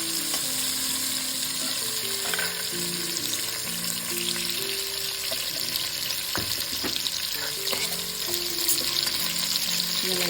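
Onions sauté with steady sizzling in a hot pan for a dried-fish curry, a continuous close crackle broken by occasional stirring clicks and scrapes, with no voices.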